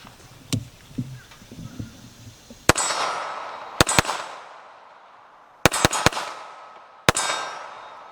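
Several sharp, loud reports from a Dan Wesson TCP 1911 .45 ACP handgun, fired outdoors in uneven bursts: a single shot, then a quick pair, a rapid triple and a final shot, each ringing off with a decaying echo.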